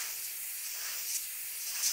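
An airbrush sprays paint onto a stencil over a paper canvas, giving a steady, soft airy hiss held close and continuous, with slight swells near the end and no talking.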